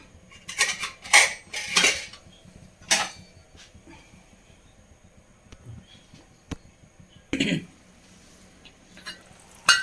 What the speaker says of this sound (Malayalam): ഇതവിടെ ഇരുന്ന് വേവട്ടെ മൂടി വെച്ച് കൊടുക്കാം